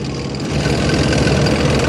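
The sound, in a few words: tank engine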